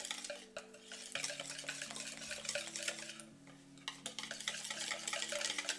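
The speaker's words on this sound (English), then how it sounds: "I'm going to try to whisk it together as evenly as possible" Pancake batter for an oven-baked pancake being whisked in a bowl, a steady scraping, clinking churn running continuously and fairly close, with no talking.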